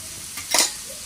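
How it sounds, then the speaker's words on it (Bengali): Whole dried red chillies and cumin seeds hit hot oil for tempering, giving a short, sharp sizzling hiss that flares and fades within a second, close and clear with no talk. "ফোড়নে দিয়ে দেবো গোটা শুকনো লঙ্কা"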